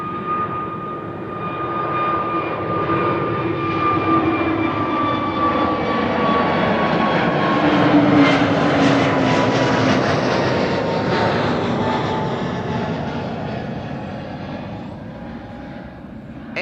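A jet airliner roars steadily at Amsterdam Schiphol Airport, a loud, sustained engine rumble with whining tones that swells and slowly fades as the plane passes nearby.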